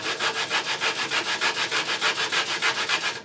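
A hand sander works back and forth across a piece of turned wood in quick, even strokes, about seventeen rasping passes close up with no talking.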